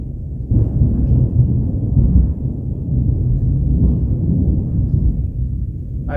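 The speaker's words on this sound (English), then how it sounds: "I've never heard thunder like that in January" Thunder rumbles in January, a loud, deep, rolling roar that swells and holds for several seconds with no voices over it.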